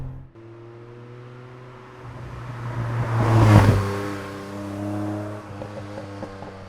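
A DeLorean DMC-12 engine accelerates out of a loaded bend, its low drone climbing into a louder rising sweep that peaks midway, then settling back to a steady hum with faint clicks near the end; no one speaks.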